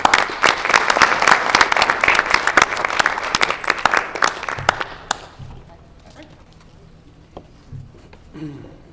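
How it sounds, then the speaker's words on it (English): An audience at a school board meeting applauds a student with loud, dense clapping for about five seconds, then it stops abruptly and leaves quiet room noise with faint voices. "Let's give him a round of applause, too."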